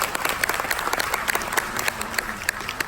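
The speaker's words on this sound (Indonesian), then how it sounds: "boleh tepuk tangan untuk Pak Presiden" A crowd applauds the President at an evening event with the tourism minister, sustained dense clapping from many hands throughout, fairly close, with faint voices underneath.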